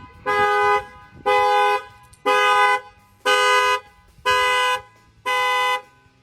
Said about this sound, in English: I'm gonna go ahead and bang on the window, and you're gonna see that the alarm will fire off.